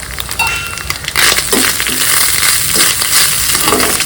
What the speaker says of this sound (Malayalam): തേങ്ങ നല്ല വറുത്തെടുക്കണം കേട്ടോ.